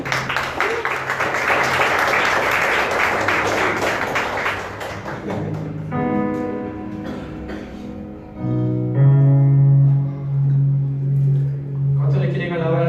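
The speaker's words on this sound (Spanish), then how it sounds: "fuerte aplauso al Señor" A church congregation applauding for the Lord breaks into dense, loud clapping for several seconds, then thins out as sustained tones and a voice come in over the fading applause.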